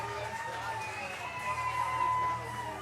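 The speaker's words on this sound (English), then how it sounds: "As you hear this crowd fired up" A baseball stadium crowd cheers and hollers in a sustained roar after a walk-off win, moderately distant, with a few voices rising above the general noise.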